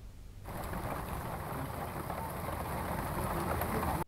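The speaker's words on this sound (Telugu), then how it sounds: "తెలుగు రాష్ట్రాల్లో విస్తారంగా వర్షాలు కురుస్తున్నాయి" Heavy monsoon rain pours down steadily in Hyderabad, a dense, loud, unbroken hiss that starts abruptly and holds constant throughout, with no voices.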